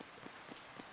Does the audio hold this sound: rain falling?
yes